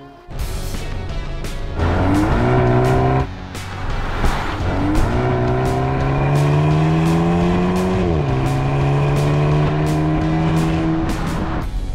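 A Maserati Grecale Modena SUV with a four-cylinder engine drives off, its engine note climbing steadily under load, dipping at a gear change, then rising again as a continuous, fairly loud drone with road and tyre noise and no talk.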